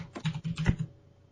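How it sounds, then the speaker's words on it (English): A quick flurry of keystrokes on a computer keyboard, several close, soft clicks in a brief burst, then quiet. "Excuse my typing."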